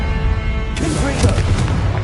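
Explosive Confringo spell blasts in the Hogwarts Legacy video game, a sudden loud broadband burst at about three quarters of a second followed by crackling, rumbling impacts over steady game background.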